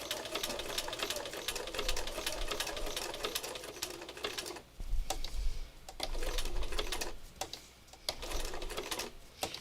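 A sewing machine stitches slowly in bursts, its rapid mechanical clatter stopping briefly a few times and then resuming, close and fairly quiet.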